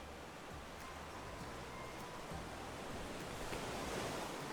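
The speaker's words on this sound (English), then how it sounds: "The waves here." Ocean surf at a beach in a video game rolls in a steady, close wash of breaking waves and hiss with a light rumble underneath, no voices.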